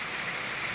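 Heavy rain pours down in Palawan, a steady, dense wash of hiss filling a brief moment with no voices.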